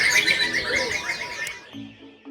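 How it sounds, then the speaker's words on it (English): A large crowd of songbirds at a bird-singing competition chirps and trills in a dense, overlapping chorus that fades out near the end. "So there are a lot of birds here."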